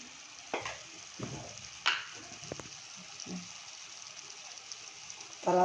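Chicken curry masala frying in a pan while being stirred: a soft, steady sizzle with scattered scraping clicks of the spoon and a louder clatter at the end, fairly quiet and close.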